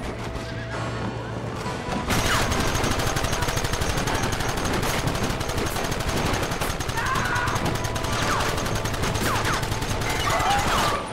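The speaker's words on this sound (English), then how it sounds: "Keep it coming, fellas! Keep firing, Pope Licker!" Rapid bursts of gunfire crackle through a shootout in the video game Red Dead Redemption, nearly continuous and loud, mixed with horse whinnies and hoofbeats as voices shout in the background.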